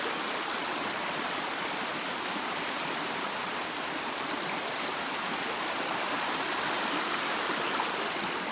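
A trail stream rushes steadily at a water crossing, a dense, even hiss of flowing water that stays close and loud throughout, with no voices.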